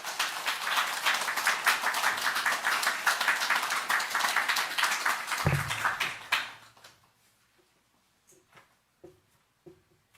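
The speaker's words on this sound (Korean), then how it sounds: "목사님에게도 우리 뜨거운 박수로 환영해 주시겠습니다." A church congregation gathered for a relocation thanksgiving service applauds warmly to welcome the guest pastor, dense steady clapping for about six seconds that then fades to a few scattered claps and near silence.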